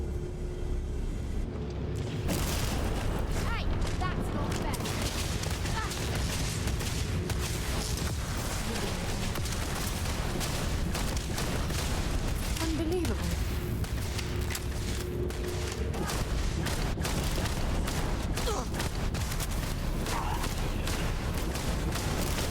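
Gunfire shootout in Starfield crackles in rapid bursts over a rumbling, booming background, moderately loud and sustained after a quiet opening.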